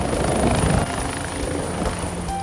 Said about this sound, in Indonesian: Dengan menggunakan helikopter